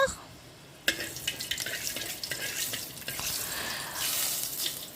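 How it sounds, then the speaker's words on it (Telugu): Fenugreek seeds dropped into hot oil in a pan, an abrupt burst of crackling sizzle that then holds as a steady, close hiss with scattered pops for several seconds. "ఆయిల్ వేడైన తర్వాత దాంట్లో ఒక చిన్న స్పూన్ మెంతులు వేస్తున్నానండి"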